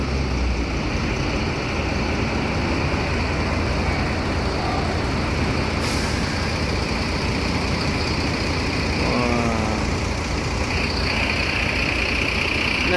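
A premium double-decker bus with a Mercedes chassis idles at Arjosari terminal, its engine giving a loud, steady low rumble that runs unbroken throughout with no talk.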